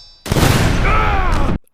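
A gunshot from the animated film Batman: Under the Red Hood: a single loud, close blast that rings out with a long reverberant tail for over a second, then cuts off abruptly.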